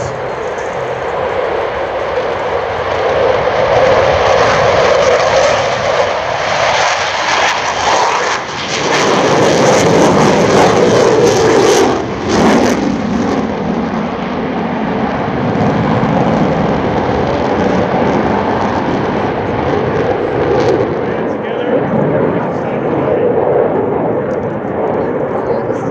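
Boeing EA-18G Growler jets at an air show in Abbotsford, a loud sustained roar of jet engines that swells and surges as they pass overhead, with a brief crackling peak midway and an announcer speaking over it.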